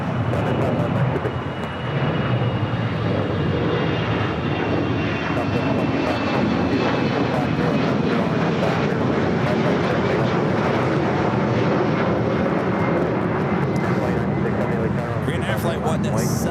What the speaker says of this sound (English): Green Air Flight 17 making that right-hand turn onto taxiway Kilo, now heading to the gates